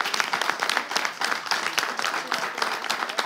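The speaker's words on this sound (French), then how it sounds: "Est-ce qu'on peut faire un tonnet d'applaudissements pour Madame Robertine?" Audience applause during a live show finale: brisk, dense clapping from a moderate crowd with individual claps standing out in an uneven, lively rhythm, fairly close and sustained throughout.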